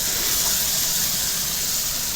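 Masala paste fries over high heat with a steady, bright hiss and sizzle that holds evenly throughout, close and fairly loud, without speech.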